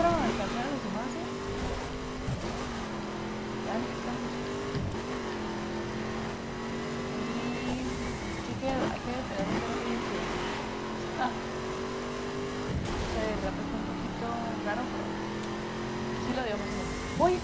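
Racing car engine in The Crew video game, revving and shifting through gears with rising and falling pitch, tire squeals and occasional impacts, with a voice talking over it.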